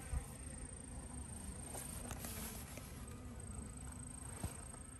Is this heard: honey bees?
yes